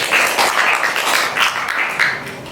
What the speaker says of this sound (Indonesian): Beri tepuk tangan untuk teman.